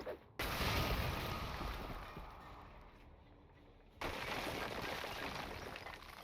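A Sisters of Battle flamer roars in Warhammer 40,000: Gladius, a loud, dense rushing blast of fire that fills the scene in two sustained bursts separated by a short cut, with no voices.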